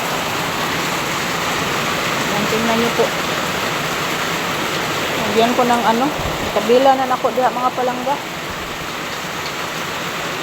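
Heavy Monday rain pours down steadily near a rural clearing, a dense hiss that fills the whole scene while someone talks over it at close range.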